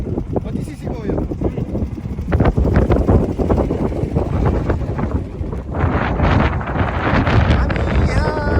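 Wind buffets the microphone on a motorbike ride along the way to Mustang, a loud rumbling roar that gusts throughout while people talk over it.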